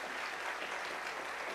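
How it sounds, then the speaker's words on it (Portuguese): A church congregation claps for the technical team in a brief burst of continuous, dense applause at a steady level. "Uma salva de palmas para a equipe,"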